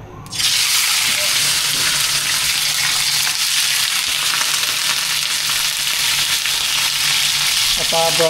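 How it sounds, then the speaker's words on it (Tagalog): Pork sautéing in hot cooking oil in a pan, a loud, steady sizzle that holds unbroken from start to finish, with faint clinks of stirring near the end. "Okay, magigisa na po tayo."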